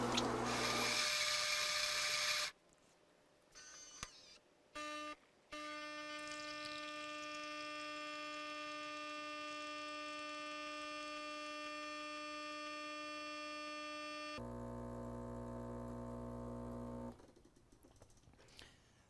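A Gaggia Cadorna espresso machine runs a brewing cycle for an 8-ounce drink, with a steady mechanical pump hum and sustained tonal whine, short stops and restarts near the start, and a deeper shift before the sound cuts off.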